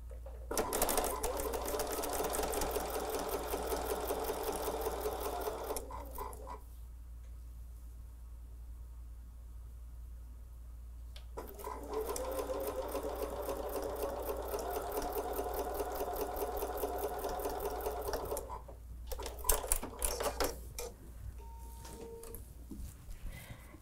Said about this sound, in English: let's get started sewing.